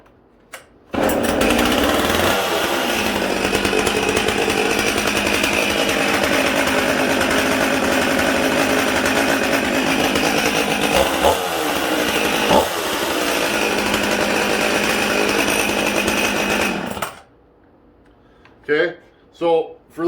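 A 1986 model chainsaw starts after a short pull and runs loud and close with a raw, steady roar and a couple of brief throttle dips, then cuts off abruptly, followed by a few words of talk.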